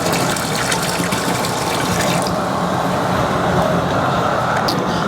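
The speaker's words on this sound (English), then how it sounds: "Next, we're going to pour 2 containers of this water." Water pours steadily from a container into a crawfish cooking pot, a continuous rushing splash with a slight change in tone partway through.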